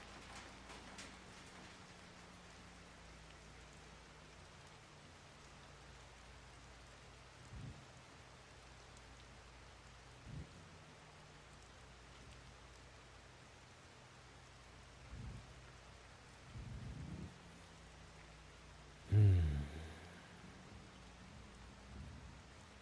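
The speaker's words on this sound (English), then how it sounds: "God, I still like the sound of the rain when you pass by the scrapped cars. Well, the rain's getting heavier." Rain falls steadily in the survival video game SCUM, a soft constant hiss punctuated by several dull thumps and a louder low rumble near the end.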